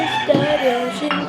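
A chicken clucks close by in a short run of throaty, tonal calls that rise and fall over about a second, loud and clear, in a rural yard.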